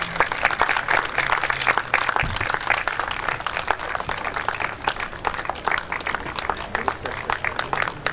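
A mushaira audience at a literary club gives steady, dense applause as a poet is welcomed to the stage, many hands clapping continuously and loudly throughout with no break.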